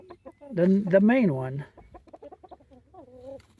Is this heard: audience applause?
no